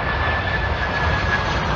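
A Cargolux Boeing 747-400 roars steadily during a hard landing and go-around, its jet engines loud and close with a sustained whine over heavy broadband noise.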